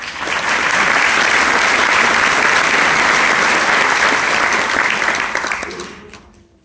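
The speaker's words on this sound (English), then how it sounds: "So another round of applause for Elise." A full room applauds at an award night, loud sustained clapping that swells quickly, holds for several seconds and then fades out near the end.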